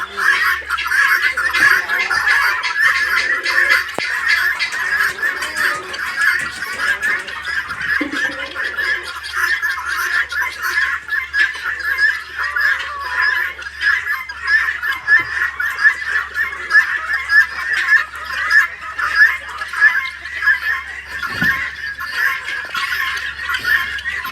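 Nearly a thousand farmed guinea fowl call continuously in a rapid, repetitive, grating chorus, with occasional other birds mixed in at moderate distance.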